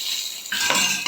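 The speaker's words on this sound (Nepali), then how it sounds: "यसरी जलिसकेको मेथीले बेसारलाई झान्ने" Turmeric dropped onto fenugreek seeds frying in hot oil in a pan while making a potato achar: a quiet hum, then a sudden, steady crackling sizzle with a faint stir midway.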